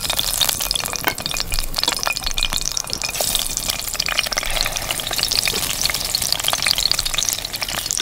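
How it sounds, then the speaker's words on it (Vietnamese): Fish frying in a pan at a survival campsite cook-off, giving a loud, continuous crackling sizzle with dense popping spatters throughout, no talk over it. "Rồi, giờ mình chiên cá."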